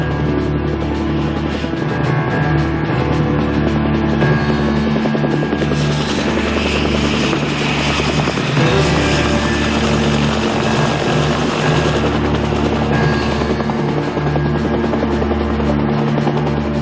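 A helicopter in flight, loud and continuous rotor thump and engine drone holding steady throughout, with no voices over it.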